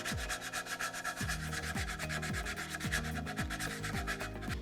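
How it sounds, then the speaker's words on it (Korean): Close, brisk back-and-forth scraping of rolled-up sandpaper inside a drilled hole in a wooden cutting board, repeated in an even rhythm for several seconds. "이렇게 샌딩해 주시면 되겠습니다."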